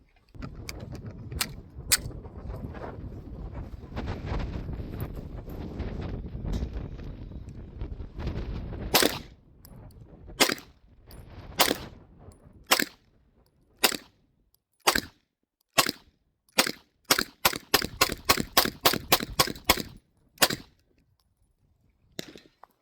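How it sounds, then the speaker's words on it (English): 9mm pistol shots with threaded barrels, Beretta and FN, on an outdoor range: after a stretch of rumbling noise, sharp, loud single reports follow, spaced at first, then in a quicker string near the end. "Couple of rounds down range, no issues."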